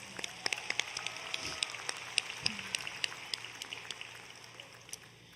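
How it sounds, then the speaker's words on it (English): Scattered hand clapping from a graduation ceremony audience, sparse and uneven rather than a full ovation, with sharp individual claps rising and thinning out over a few seconds. "Round of applause, and you may now sit down."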